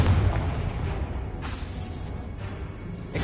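A Confringo explosive spell blast from the Hogwarts Legacy video game: a dense, loud low rumble with bursts of broadband noise, a sharp flare near the middle and another at the end, continuous and without voices.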